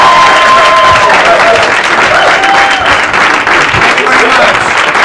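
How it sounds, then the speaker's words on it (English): A theatre audience applauds a comedy duo, Zito and Bean, with steady, loud crowd clapping that fills the room, faint voices and cheers mixed into the wash. "A nice round of applause for the comedy to Mr."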